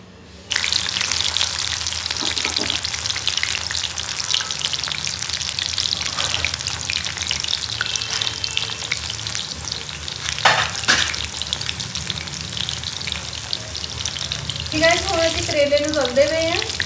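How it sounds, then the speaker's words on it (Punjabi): Bitter gourd fries in hot oil with a loud, dense, continuous sizzle close by, while faint background noises and a brief warbling sound come in near the end. "ਕਰੇਲੇ ਨੂੰ ਤਲਦੇ ਪਏ ਹਾਂ"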